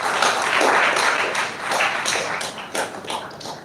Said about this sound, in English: Please give yourselves a big hand of applause.